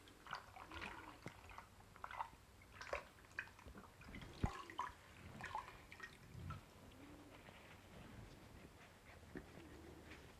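Dyed cotton fabric is sloshed and squeezed in a tub of rinse water, giving soft, irregular splashes and drips, quiet and close, with no talking.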